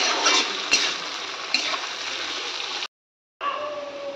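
Chopped onions frying in a pan for paneer (chhena) bharta give a steady, close sizzling hiss, broken by a brief silence near the end before the frying resumes.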